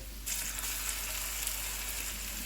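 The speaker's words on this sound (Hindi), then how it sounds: "प्याज फ्राई हो गए हैं, इसमें साबुत मसाला डालेंगे। इसको 30 सेकंड तक फ्राई करेंगे।" Onions frying with whole spices in a pan for a spicy vegetable pulao, a steady close sizzle that starts abruptly and continues evenly without talk.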